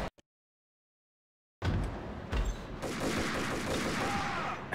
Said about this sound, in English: How does he get shots off on me in the middle of me killing him with an assault rifle?